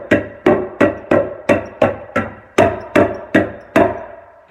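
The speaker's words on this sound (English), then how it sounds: "staple it to the top." Carpet padding being stapled onto a stair tread with a staple hammer: about eleven sharp, evenly spaced impacts, close and loud.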